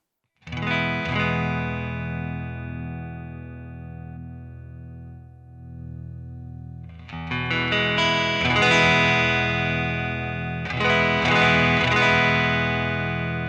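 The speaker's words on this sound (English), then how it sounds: "let's go for the tweed combo just right there" An electric guitar through a Boss ME-90 tweed combo amp model plays a chord that rings out with slight amp grit and slowly decays, followed by more strummed chords with a warm, edgy overdriven tone.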